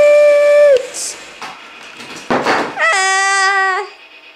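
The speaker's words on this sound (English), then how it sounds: "Whoa, that's a train crash" A toy train whistle toots, then rattling clatter and a sharp crash follow before the whistle sounds again and stops.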